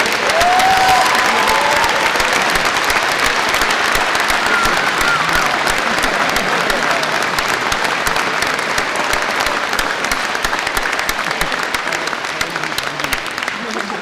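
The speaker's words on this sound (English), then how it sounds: "join me in a round of applause to say thank you to those who have helped you achieve your work" A large audience at a university graduation ceremony applauds steadily and loudly for the full fourteen seconds, the dense clapping holding at an even level and fading only slightly toward the end.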